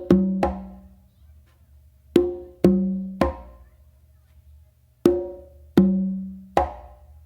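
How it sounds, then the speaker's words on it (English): Strikes on a set of three congas in the makuta rhythm pair a ringing open tone with a sharper close slap. Seven hits fall in three short groups, each decaying quickly, played alone with no voices. "it was followed by a close slap with your non-dominant hand"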